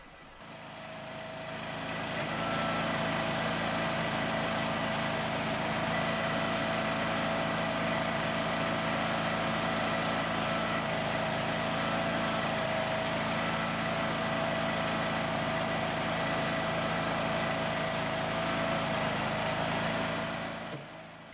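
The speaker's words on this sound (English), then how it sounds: "I was then able to drop it in my freshly excavated trench and start compacting" A gas-powered compactor pounds soil in a freshly excavated trench with a continuous, steady engine drone and rapid vibrating thump, loud and unchanging throughout.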